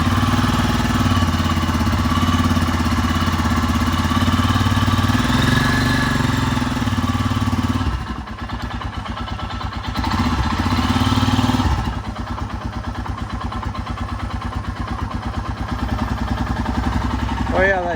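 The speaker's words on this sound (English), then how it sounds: "You can probably hear the valves clattering. Noisy valves are happy valves." Royal Enfield Himalayan motorcycle engine idling close by with clattering valves, a steady ticking, thumping rumble that dips briefly mid-way, with a voice talking over parts of it.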